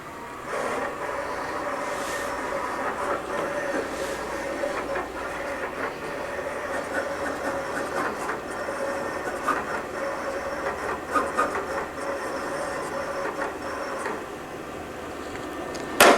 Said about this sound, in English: send it over to my cutter, and it'll cut right on my scrap piece of material